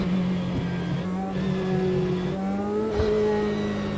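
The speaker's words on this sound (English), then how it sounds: "You've got little blips of engine as it goes through the gearbox." Race car engine in Automobilista 2 revving through a run of gear changes, its pitch climbing and dropping with short throttle blips between shifts, steady and close throughout.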